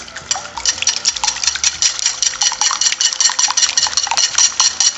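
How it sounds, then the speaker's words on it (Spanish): Two eggs being beaten in a bowl for Ecuadorian plantain (mejido) empanadas: a rapid, steady run of light clinks and taps against the bowl, close and continuous, with no talking. "Vamos a poner 2 huevos, pero le vamos a batir antes de ponerlo"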